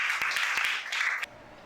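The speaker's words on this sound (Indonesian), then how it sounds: "Tepuk tangan buat Esther." A classroom of students claps for a classmate, a short burst of bright, dense clapping lasting about a second before cutting off abruptly into quiet.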